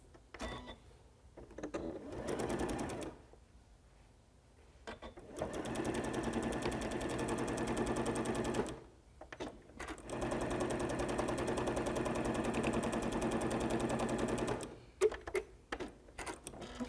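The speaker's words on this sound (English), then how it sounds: "I'll begin to sew my short edges of the front side of the placemat and the back side of the placemat" A sewing machine stitches the short edges of a placemat with a quarter-inch seam, running in long steady whirring stretches, nearby and clear, broken by short pauses between seams.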